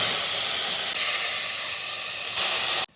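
Mutton fries in hot ghee and mustard oil with a loud, steady, close sizzle that hisses continuously and then cuts off abruptly at the end, with no talking.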